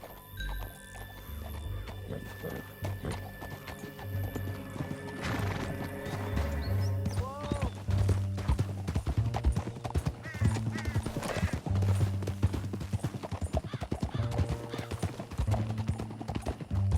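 Steady clip-clopping hooves of galloping horses in Red Dead Redemption 2, with occasional whinnies and neighs, rolling on continuously over a busy game soundtrack.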